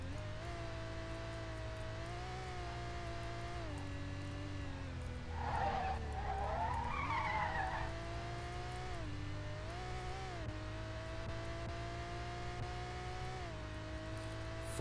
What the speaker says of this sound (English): this engine sound doesn't really sound much like an NSX at all.